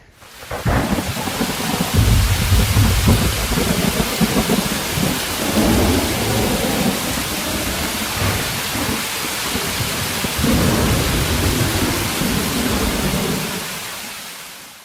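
Steady rain falls on a Colorado mountainside during a 14er summit hike, with low rumbling thunder in the background, a loud continuous wash close by.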